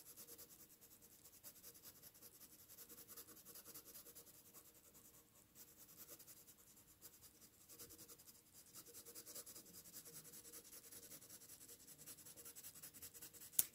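Colored pencil scratches across paper in soft, continuous strokes, faint and close, with a light rubbing texture throughout.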